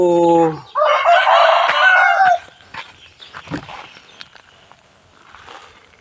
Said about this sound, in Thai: ไก่ตีกัน